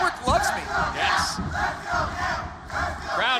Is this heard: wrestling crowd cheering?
yes